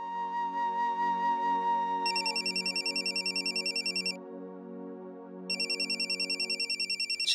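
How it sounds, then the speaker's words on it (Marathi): A phone ringtone plays in a TV drama scene. A sustained melodic tone gives way to rapid, pulsing electronic ring bursts, which pause for about a second and then start again, loud and close. "शैरतचा फोन."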